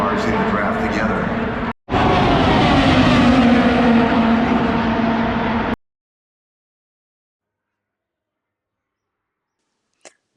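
IndyCar race cars roar past during Indy 500 practice, a loud, dense engine blast with a brief dropout and a falling pitch sweep, then abrupt silence.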